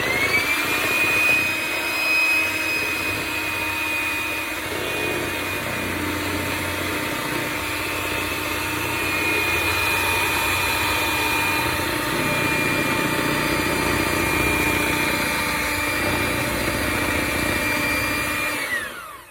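An electric mixer beats butter cake batter with vanilla, giving a steady, close, continuous motor whine that holds unbroken for nearly twenty seconds before cutting off.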